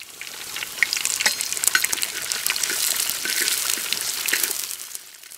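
Finely chopped onions hit hot oil in a clay pot, and a loud crackling sizzle swells and then settles while they are stirred, with occasional scraping. No voices.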